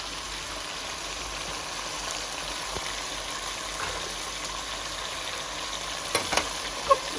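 Chopped mint and coriander leaves frying in hot oil give a steady, even sizzle close by, with a few faint clinks of a utensil near the end and no one talking.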